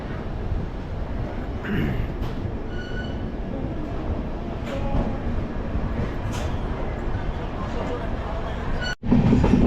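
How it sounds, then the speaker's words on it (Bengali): Padatik Express train rolling along after leaving Sealdah station, a steady loud rumble of wheels and carriage with faint background voices and a brief cut near the end. "ফাইনালি আমাদের ট্রেন ছেড়ে দিয়েছে শিয়ালদা স্টেশন থেকে, একদম রাইট টাইমে ছেড়েছে"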